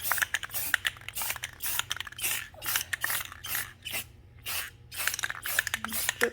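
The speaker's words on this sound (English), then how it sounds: "I'm just going to spray paint this one for now" Spray paint hisses from an aerosol can in repeated short bursts while gold paint is applied to a Valentine's Day craft, close and fairly loud, with rattling and mechanical clicks between sprays.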